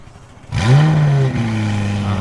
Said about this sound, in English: you guys gotta hear the McLaren.